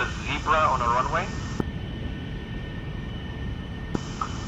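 Steady broad engine roar of a military aircraft taxiing onto a runway in the DCS flight simulator, continuous and close, with a radio voice speaking over it early on.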